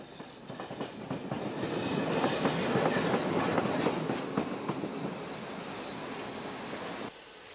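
A steam locomotive pulling an express train rolls past with rhythmic clickety-clack from the wheels, swelling louder in the middle and then settling into a steady rumble.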